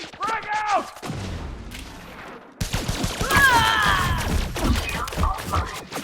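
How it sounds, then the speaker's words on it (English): A grenade blast and gunfire in Elite Dangerous Odyssey ring out, with sharp bursts and a booming impact and rumble, while a voice shouts over the combat. "Throwing grenade!"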